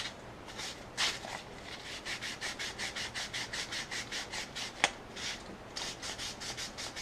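Fine 400 grit sandpaper is rubbed by hand along a Bosch distributor shaft for a 1969 VW Beetle, making steady rhythmic back-and-forth strokes, close up and moderately quiet, with one sharp tap midway.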